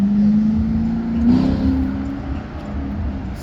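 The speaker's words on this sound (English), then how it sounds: "Subaru rally car" A Subaru rally car's engine at a small car meet, a loud close note that rises steadily as it revs, with a throaty rumble underneath and no talk.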